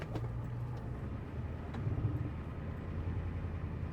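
An old Ford IDI diesel truck with a 4-inch lift drives slowly nearby, its low steady engine rumble continuing throughout with a slight swell midway.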